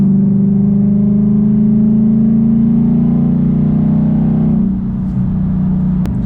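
A Mustang engine drones loudly and steadily in fifth gear with a slowly rising pitch as it accelerates, then eases off near the end with a faint click.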